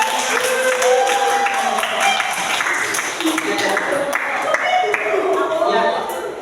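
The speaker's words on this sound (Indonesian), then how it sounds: "beri aplaus dulu untuk ya" Students applauding a teacher in a micro-teaching class, a steady patter of clapping from a small group with voices mixed in.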